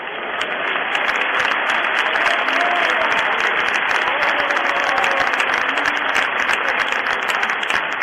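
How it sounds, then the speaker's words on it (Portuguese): A church congregation applauds together during a sermon, a dense, steady wash of clapping from many hands that fills the room at a constant loud level with no speech over it. "E já que é assim, Jesus, aceita um aplauso do Teu povo"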